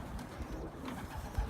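Pigeons cooing softly in a loft with newly hatched young birds, low murmuring coos under a steady background hum, fairly faint and continuous.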